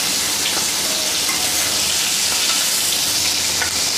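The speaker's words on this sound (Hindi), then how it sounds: "अब 2 से 3 मिनट इसे बस फ्राई कर ले, इतना ही काफ़ी है।" Pieces of katla fish frying in hot oil for a Bengali fish curry, a loud, dense, continuous crackling sizzle that holds steady and close throughout, with no voices.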